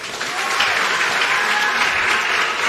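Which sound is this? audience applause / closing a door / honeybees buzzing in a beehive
audience applause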